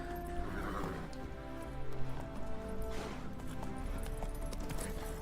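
Horse galloping in a video game, a rapid, muffled hoof rhythm buried inside a busy, loud game soundscape with music and effects throughout.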